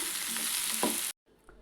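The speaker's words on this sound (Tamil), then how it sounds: "இப்போது இதை கலந்துட்டு ஃப்ளேம் மீடியமாக வச்சுட்டு வதங்கிட்டு விட்டும்" Mushroom paya mixture sizzling and sautéing in a pan on a medium flame, a steady close frying hiss with a brief stir, then it cuts off abruptly into quiet.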